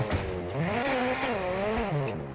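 Rally car engine in the video game WRC 9, revving up and down in rising and falling sweeps with a buzzing, close, continuous tone and faint tire noise, no talk.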